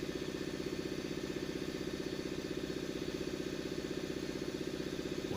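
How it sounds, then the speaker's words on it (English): An air tank compressor in a warehouse runs steadily with a fast, even mechanical pulsing throbbing the whole time, close and continuous, no voices. "that's a air tank compressor. That's weird that it just popped on right now."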